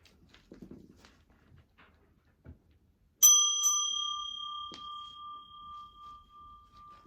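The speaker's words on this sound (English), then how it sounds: "And I'm going to ring a bell." A single bell is struck once, ringing out with a bright clear metallic tone that decays slowly over several seconds, after a few faint scattered noises.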